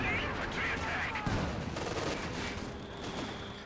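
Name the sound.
artillery and tank gunfire in Company of Heroes 2 video game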